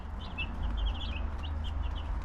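White Cornish meat chicks, a flock of young hens, chirp and peep in quick, overlapping bursts close by, over a low steady hum in the brooder.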